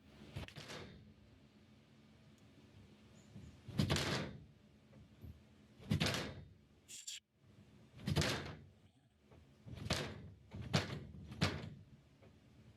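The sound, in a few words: door rattling as if being pulled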